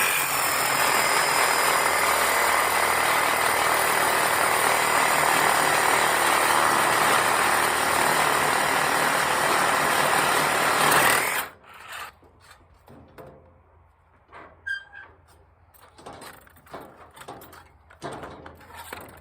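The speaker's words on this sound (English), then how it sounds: "So I'm gonna try this Sawzall." DeWalt cordless Sawzall reciprocating saw cutting metal on a Powder River squeeze chute, a loud continuous buzzing rasp for about eleven seconds that stops abruptly, followed by scattered clanks and handling knocks.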